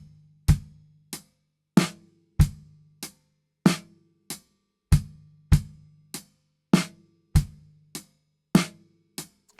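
Steady drum kit groove with kick and the snare pushed onto the off-beat eighth, sharp evenly spaced hits ringing briefly with a low boom under some, played close and alone without talk.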